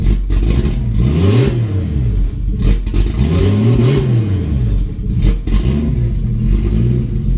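A boosted Mazda Miata engine running loud and close, with a steady rough rumble and rhythmic rising and falling revs, as if the idle is unsteady and being held, with no talking.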